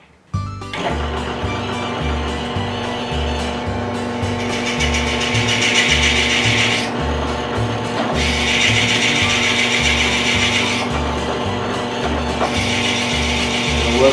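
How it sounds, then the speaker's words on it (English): A power drill whirs loudly and continuously, its motor pitch rising and dropping in cycles as it bores through the center of a pen blank, with no talking. "keep raising the drill so that it can clean out the remnants"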